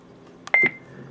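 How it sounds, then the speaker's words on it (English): A short electronic beep from an Icom 2300H radio transceiver, two quick tones close together, sharp and fairly loud against a quiet background. "that beeps a little loud and annoying"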